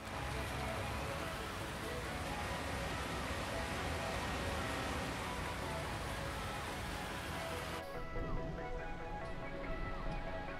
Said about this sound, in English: We are 1:30 in game and it is still raining